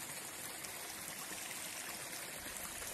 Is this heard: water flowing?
yes